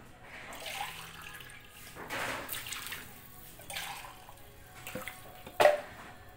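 Water poured into a bowl of sugar, oil and baking powder while mixing a dough or batter, heard as several short splashy pours and gurgles with a sharper splash near the end, fairly close and without talk.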